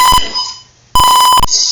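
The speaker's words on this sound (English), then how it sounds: "this buzzer is also ringing" An electronic buzzer in an air quality sensor circuit rings in two loud, steady bursts, a short one and then a longer one, with a brief quiet gap between them.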